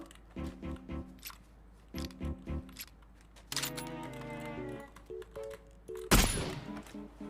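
Rapid bursts of video game gunfire crackle in short volleys, followed by a sustained stretch of shooting and one loud blast near the end.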